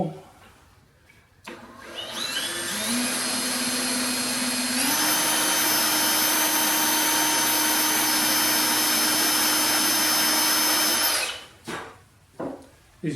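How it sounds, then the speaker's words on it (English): A power drill whirs steadily for about ten seconds, drilling a hole in a drawer front, its pitch rising once as it speeds up, followed by a few short clunks. "Drill a hole."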